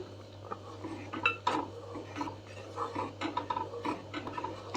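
A spoon scrapes and clinks against a metal pot while sugar is stirred into carrot kheer, an irregular run of light taps and scrapes over a steady low hum.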